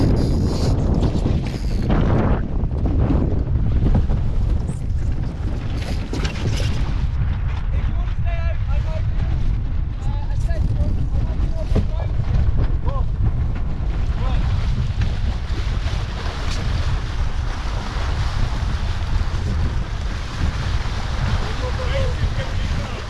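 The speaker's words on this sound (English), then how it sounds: "Hey, wind just picked up." Wind gusting and buffeting while sailing a dinghy at a sailing school in Minorca, Spain, a steady loud roar of wind and water rushing past that holds for the whole stretch, with voices speaking briefly under it.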